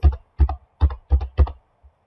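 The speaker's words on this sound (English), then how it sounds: "we'll need to put in our library card number and a password" A library card number and password are typed on a computer keyboard: about five distinct, close, fairly loud key-press clicks in a quick uneven rhythm, then a faint final tap. No one speaks.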